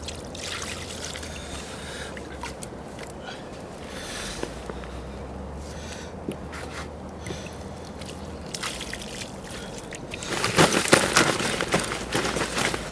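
Water splashes and sloshes over a dark mirror carp held at the lakeside on a winter day, with a low, steady trickle that swells into a louder, brighter splashing pour near the end.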